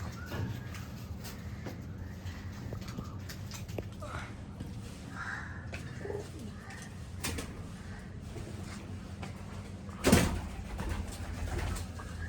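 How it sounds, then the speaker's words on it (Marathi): Pigeons coo steadily inside an old, partly crumbling stable building in Mumbai, with soft, close calls repeating over a low background hum while people talk nearby. "कबूतर वाटत आहे बघा एक"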